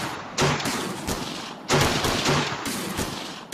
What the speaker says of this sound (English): And gunfire erupts from the jail.